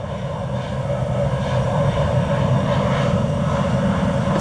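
Airliner jet engines in the Infinite Flight simulator give a steady, continuous drone with a low rumble, heard from a tail camera view and holding constant throughout with no talk.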